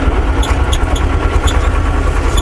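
A tractor's engine drones steadily while driving over rough ground, a close, loud low rumble with faint periodic rattles and no talking.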